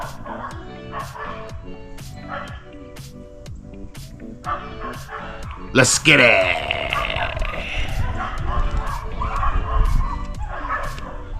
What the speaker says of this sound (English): Them dogs fighting over there.